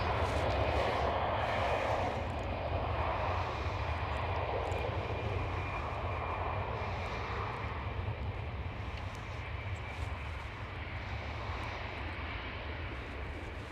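An Iberia Express airliner at Amsterdam Schiphol produces a sustained jet engine roar with a faint high whine, slowly easing in loudness over the stretch.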